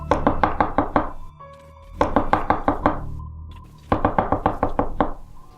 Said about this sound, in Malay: kami semua terdengar ketukan yang datang dari depan pintu rumah.